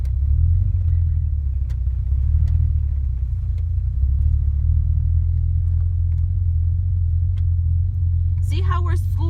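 A manual Ford Mustang creeps forward in first gear without throttle, its engine giving a steady, loud, low idle rumble throughout, with a faint high chirp near the end.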